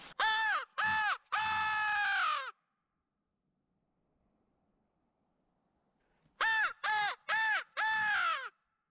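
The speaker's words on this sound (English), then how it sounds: "I'm gonna blow the crow call first to see if we can shock one" A hunter blows a crow call while turkey hunting, two loud bursts of harsh caws, first three then four, separated by a few seconds of near silence.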